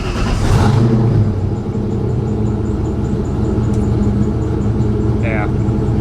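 A car engine on a cold start idles with a steady low rumble and whir, a brief rev swelling near the start, then settling into an even drone.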